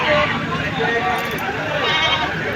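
Goats, a nanny with two kids, bleat at a livestock market in Padre Garcia, Batangas, their wavering calls mixed with talk and background chatter from a noisy crowd.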